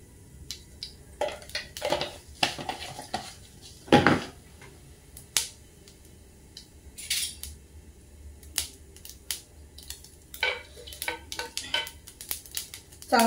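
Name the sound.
tempering mustard seeds and cumin in hot oil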